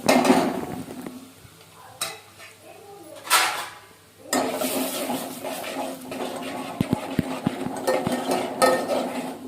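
A spoon stirs ground peanuts, grated coconut and spice powders in oil in a metal pan, with repeated scraping and clinking strokes and a soft sizzle running under them.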